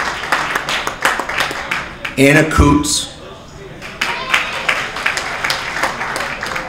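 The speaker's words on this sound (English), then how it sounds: "Give her a round of applause" A crowd at a community volunteer appreciation night breaks into applause, scattered clapping interleaved with a presenter's amplified voice reading names, with a brief louder burst of talk midway.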